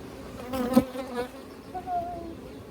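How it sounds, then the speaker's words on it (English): A close buzzing of bees flying around a hive, droning and wavering in pitch as they pass near. "The only reason there's any bees flying here is because they're not from this hive."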